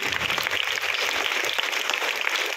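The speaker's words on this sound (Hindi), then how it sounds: "एक बार जोरदार तालियां क्लास टीचर रविंदर सर के लिए भी।" Loud, sustained applause from a crowd of schoolchildren and staff at a morning school assembly, honouring a class teacher after a class III presentation. The dense clapping holds steady throughout with no talk over it.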